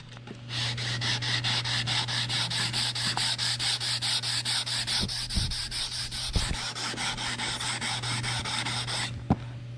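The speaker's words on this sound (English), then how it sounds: "So that'll all have to get sanded out with 120 or 80 grit" Hand sanding on a 1963 Lincoln Continental body with 120 or 80 grit sandpaper, a steady close rhythmic rasp of back-and-forth strokes running continuously, with a steady low hum underneath.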